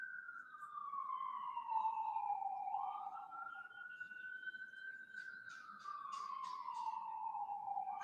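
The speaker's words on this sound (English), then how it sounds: "That's an ambulance. That's not NYPD." Ambulance siren on a New York City street, a loud sweeping wail that rises and falls continuously, close by, with faint traffic clatter and no talk.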